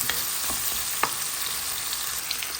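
Pinakbet vegetables with tomato being stirred in a pan, a steady close sizzle with a few soft scraping clicks of the spoon, no voices.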